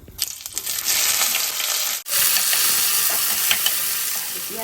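Onion hits hot oil in a wok and sizzles loudly while a utensil scrapes and stirs, the frying briefly cutting out before resuming as a dense, continuous crackle.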